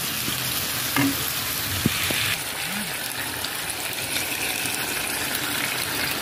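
Tomato sauce bubbling and sizzling in a pan for adobo chino as it is stirred, a steady frying hiss with a few scraping spoon sounds and a brief knock near the start.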